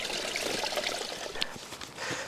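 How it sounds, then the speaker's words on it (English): Spring water from a boggy field pours and trickles steadily, wetting a sawmill blade to keep sawdust from clogging it; a continuous close, even splashing flow without talk. "This is spring water."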